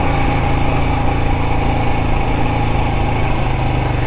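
A Royal Enfield Himalayan 411 motorcycle climbing a steep, loose, rocky track, its single-cylinder engine a loud, steady, close drone with a constant low throb throughout.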